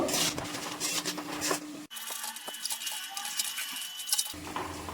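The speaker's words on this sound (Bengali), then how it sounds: "এবার আমি মশলাটা ভালো করে কষিয়ে নেব" Masala for potol chingri being stirred and fried in a pan, with close scraping and clinking of a spatula against metal over a crackling sizzle, interrupted by a short quieter stretch.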